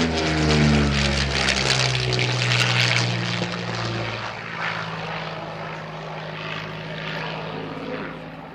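A Soviet MiG-3 propeller fighter flies past at an air show, its piston engine droning loudly with shifting pitch as it passes, then fading steadily as it moves away.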